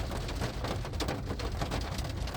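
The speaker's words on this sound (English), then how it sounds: "It's very cold and rainy in Lisboa." Cold rain in Lisbon drums steadily on a car from inside, a dense, even patter with no gaps and no voices.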